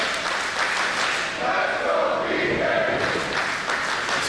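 Crowd at a professional wrestling match between Bryan Keith and Rocky Romero cheering and clapping in a steady roar, with a commentator's voice over it.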